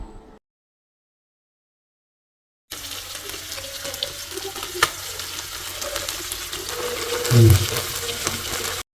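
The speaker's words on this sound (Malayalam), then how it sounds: "മീൻ വറുക്കുമ്പോഴുണ്ടാവുന്ന ആ സൗണ്ട് എനിക്ക് ഭയങ്കര ഇഷ്ടമാണ്." Steady crackling sizzle of pearl spot fish frying in hot oil, fairly close, with a sharper spit and flare near the end; silence at the start.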